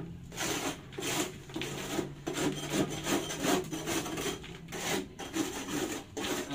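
A brush scrubs a wet surface during cleaning, repeated rhythmic rasping strokes, soft and close, with no talking.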